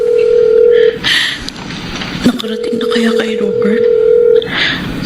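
Phone ringing tone of an unanswered call: long steady beeps separated by short gaps, repeating clearly with faint background noise and brief voice sounds.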